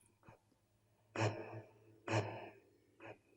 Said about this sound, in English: I think it's a guy breathing. It's a breath.